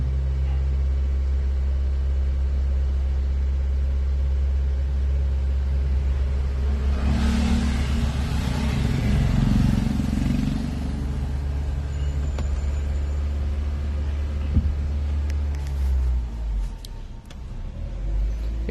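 A Honda City engine idles to warm up and recharge its battery after sitting unused for several days. The low, steady rumble carries a brief rising whoosh midway and fades slightly toward the end.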